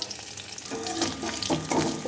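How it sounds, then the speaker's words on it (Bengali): Wild celery seeds, dried chilli and garlic fry in leftover fish oil with a close, busy sizzle and crackle that swells in uneven surges over a couple of seconds, with no talk. "মাছ ভাজা তেলে রাঁধুনি দিলাম শুকনো লঙ্কা দিলাম রসুন দিলাম"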